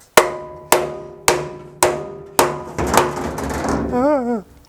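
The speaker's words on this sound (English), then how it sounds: "Hammer." A hammer striking a metal part on a project, five evenly spaced, loud ringing blows that each decay, followed by a squealing, wavering scrape.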